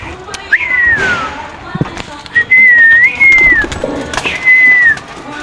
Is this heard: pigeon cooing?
yes